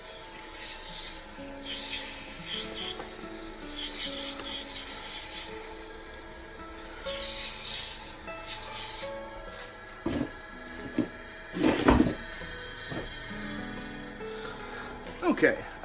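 A turned pen blank is sanded through to 2000 grit on a spinning lathe: a steady rubbing hiss over a motor hum, with a few sharper scrapes and knocks toward the end.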